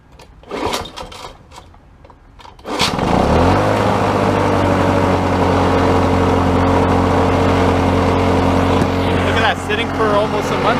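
A 1983 lawn mower with an F201 engine starts after a few clunks and handling noises, then settles into a loud, steady idle with a strong low drone and buzzy harmonics.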